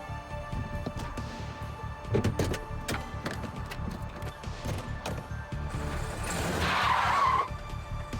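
A stolen car speeds away with tires screeching, heard as a run of skids and impacts that builds into a loud squeal near the end, with no talk.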